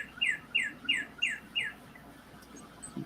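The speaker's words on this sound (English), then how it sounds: "That bird is loud." A songbird sings loudly nearby, repeating five evenly spaced bright chirping phrases, then dropping to a few fainter notes against a quiet indoor background.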